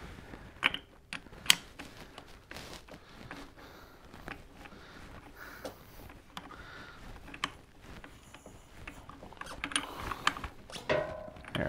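A ratchet tightens a nut on a Harley-Davidson Sportster charging system, giving close, quiet clicking and mechanical rattles in irregular bursts with small metallic taps and no speech.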